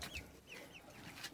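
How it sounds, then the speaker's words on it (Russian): Broiler chickens clucking softly on a small farm as they settle for the night, a few short, quiet calls scattered over low background hum. "Курицы уже собираются спать, отдыхать."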